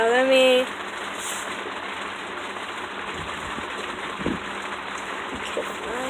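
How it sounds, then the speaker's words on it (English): Steady rain drumming on a tarp covering a cardboard box fort, a continuous dense hiss heard from inside and close up. "yeah, it's raining as you can see"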